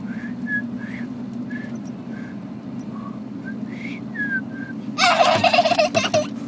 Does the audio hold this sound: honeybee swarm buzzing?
no